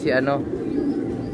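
A racing pigeon gives a short coo at the very start, quickly fading under a person talking.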